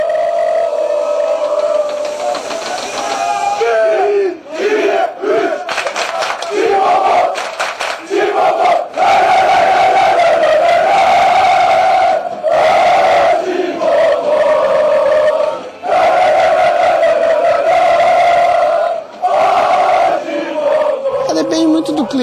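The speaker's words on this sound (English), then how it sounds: "Passers-by are greeted by a wall of sound. Supporters in great spirits and great voice," A big crowd of football supporters chants and roars in the street before the Fenerbahce versus Galatasaray derby, a loud, continuous wall of massed voices with rhythmic surges and brief dips, close by and dense.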